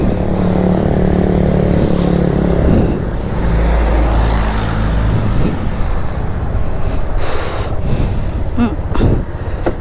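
Motorcycle riding along a road in Sariaya, Quezon, in light drizzle, engine drone steady and loud throughout, heavily buffeted by wind rushing over the microphone.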